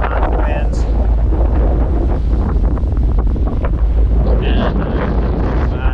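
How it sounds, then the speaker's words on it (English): Strong wind buffets a sailboat at sea in about 20 knots of breeze with wind chop, a loud continuous roar of gusts on the microphone over splashing water throughout. "we got 20 knots of wind"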